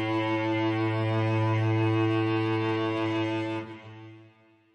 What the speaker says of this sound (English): it's only going to be the circular bowing 2 articulation